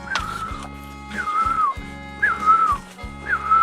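A tree-dwelling bird repeats a rising then gliding whistled call four times at steady intervals, clear and fairly close, over a low steady hum.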